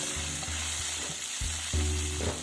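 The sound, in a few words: curry leaves sizzling and stirred in hot tempering oil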